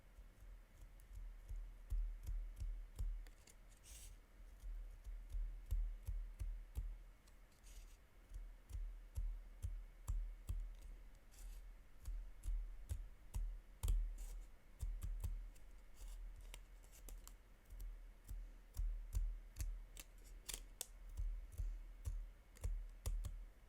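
Scissors snip paper along printed dotted lines to cut out a place-card and guest-gift motif, giving a steady run of close, quiet crisp cuts and clicks with no talking.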